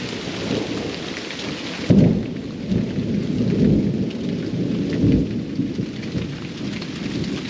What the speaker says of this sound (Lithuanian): Bet dundulis kaip vanuoja.